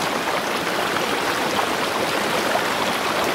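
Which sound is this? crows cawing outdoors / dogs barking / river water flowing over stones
river water flowing over stones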